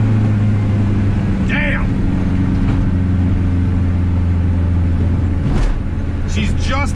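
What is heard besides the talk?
500HP turbo K24 car engine accelerating in third gear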